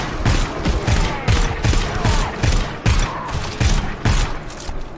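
Rapid bursts of gunfire from the co-op shooter GTFO, loud repeated shots in an uneven rhythm, tightly spaced volleys through the whole stretch with no voices over them.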